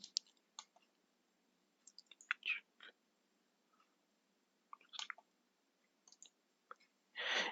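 Soft, sparse computer mouse clicks come in short isolated taps and small clusters in a quiet room, faint and close, with no talk over them.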